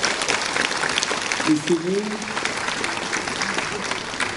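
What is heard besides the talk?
audience applause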